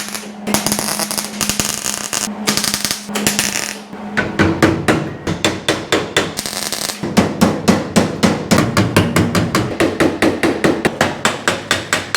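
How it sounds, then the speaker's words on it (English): Rapid, loud metallic hammering with hammer and dolly on the rusty sheet-metal cab of a 1953 GMC truck, blows landing in quick uneven bursts then settling into a steady fast rhythm, close up. "a lot of hammer and dollying"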